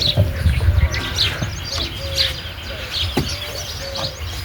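Pigeon chicks call in short, soft chirps and peeps over a low background murmur, close by and repeated irregularly across the few seconds.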